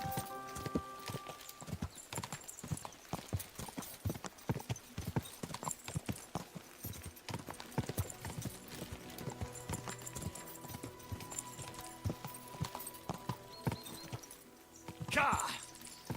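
Horse hooves clip-clop steadily in the medieval game Kingdom Come: Deliverance 2, close and rhythmic, with a brief whinny near the end and someone speaking over the hoofbeats.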